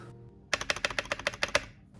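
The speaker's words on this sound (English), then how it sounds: "I found myself opening random .txt files just to revel in the sound of typing" Rapid, crisp clicks of typing on a mechanical keyboard with grey keycaps and an orange escape key, about a dozen close, evenly spaced keystrokes after a brief quiet lead-in, heard alone.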